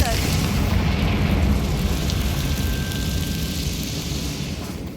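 A Confringo spell explosion in the video game Hogwarts Legacy, a loud, deep rumbling blast that fills the clip and slowly decays, with a faint whistle riding over the roar.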